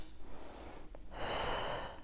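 A pregnant woman breathes in and out during a cardio exercise, with a soft breath followed by a louder, longer rushing exhale close by.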